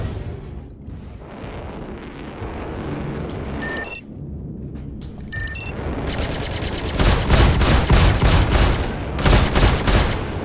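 Gimbaled ship weapons fire during a Star Citizen space flight, rapid bursts of loud repeated shots that build into a dense, heavy barrage over the latter half, with short electronic tones in between.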